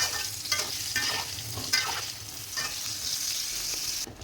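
Tempeh pieces fry in hot oil over lowered heat, giving a steady crackling sizzle with occasional stirring scrapes throughout, close and continuous, with no one speaking.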